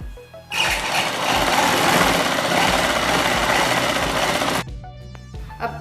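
Sewing machine stitching a strip onto a blouse, a steady close whirring run of about four seconds that starts and stops abruptly, with quieter handling sounds around it.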